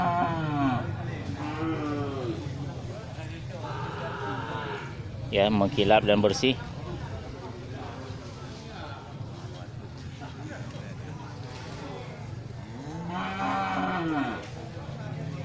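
Cattle, including Aceh cattle, moo several times, long low drawn-out calls, while people talk nearby amid the background bustle of a busy livestock market.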